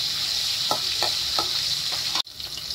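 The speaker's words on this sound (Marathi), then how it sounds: "टमाटर टाकते, कढीपत्ता टाकला। टमाटर चांगले नरम पडतो का भाजून घेऊया।" Tomatoes and curry leaves with cumin frying in a pan, giving a steady bright sizzle marked by a few soft stirring scrapes, close and clear, with a sudden brief drop near the end and no talk.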